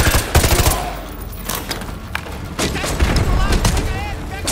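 Gunfire in Call of Duty: Modern Warfare 2 Remastered crackles in bursts of rapid shots and booms, loud and close, with a player talking over the shooting.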